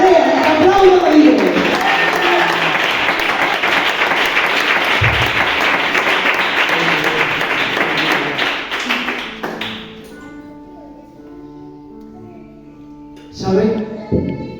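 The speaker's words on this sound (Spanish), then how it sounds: "Lo que lo crea, aplaudan a Dios." A church congregation bursts into loud, dense applause that holds steady for about nine seconds and then fades, with voices and a sung or spoken line rising afterward.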